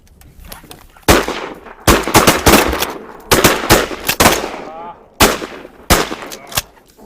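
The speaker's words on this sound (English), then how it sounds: "we just had some really awesome shooting" Shotguns firing at mallards during a Missouri duck hunt: a rapid volley of loud, sharp blasts from several guns, some overlapping, with echoing decay between shots and a few clicks and rustles in the gaps.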